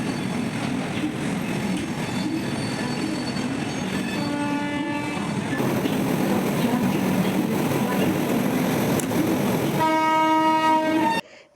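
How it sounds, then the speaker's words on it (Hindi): A passenger train pulling away and running, with steady rumbling rail noise throughout and brief horn-like tonal bursts partway through and near the end, heard from inside among faint voices. "तो यहाँ पे ट्रेन स्टार्ट हो गई थी हमारी।"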